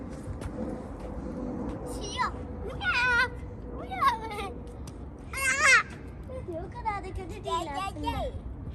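A cat meows several times in short, rising calls at moderate distance, mixed in among children's voices and chatter in a home setting.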